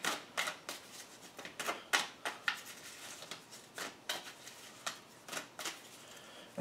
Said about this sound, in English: Shuffle these.